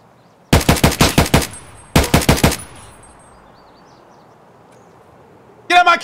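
Automatic gunfire in the shooter game Escape From Tarkov: two loud, close bursts of rapid shots, one of about ten rounds and one of about five, then a quiet pause before a third short burst.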